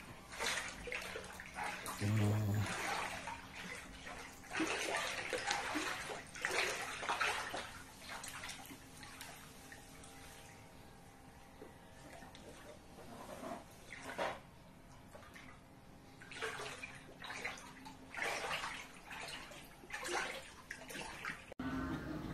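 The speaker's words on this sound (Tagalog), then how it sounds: "pinasok po ang bahay ng baha" Floodwater inside a house in the Philippines splashes and churns steadily, with sloshing bursts and a faint tonal hum in the background, close by and moderately loud.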